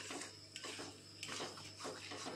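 A spoon stirs ridge gourd and potato with poppy seed paste in a pan, giving faint scrapes and light clinks against the metal over a low background hum, with no talking.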